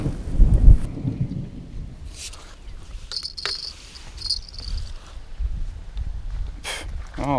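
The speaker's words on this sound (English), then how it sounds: "There's a storm coming. It's gonna pour here pretty soon." A thunderstorm builds outdoors at a carp fishing spot: a low rumble of thunder swells in at the start, then crickets chirp steadily over faint background noise, with soft footsteps and rustling nearby.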